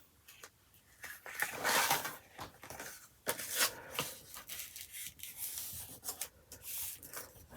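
Paper scored for a fold line on a mini journal page, a dry rubbing scrape drawn in several short strokes, close and fairly quiet, with no talk.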